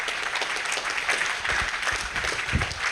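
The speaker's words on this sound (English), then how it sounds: "Let's give a big round of applause to them for setting all this up today." A crowd applauds the support team who set up a startup talk event, with steady clapping throughout and a few sharper, closer claps standing out near the end.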